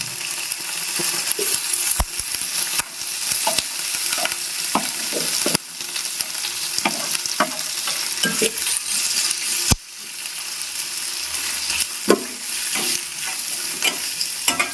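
Onions frying in a pan with fennel seeds and curry leaves for a chicken pepper fry, a steady sizzle broken by frequent sharp scrapes and taps of a stirring spoon against the pan.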